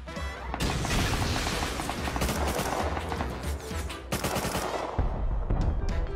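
Continuous loud automatic gunfire in the game Rust, dense rapid bursts with heavy booms, nearly unbroken with brief gaps.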